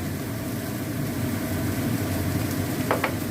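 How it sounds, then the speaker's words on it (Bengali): Boiled banana flower with salt and spices frying in a pan, a steady close sizzle throughout with a couple of brief sharp clinks near the end. "দিয়ে এবার আমি কষে নেবো।"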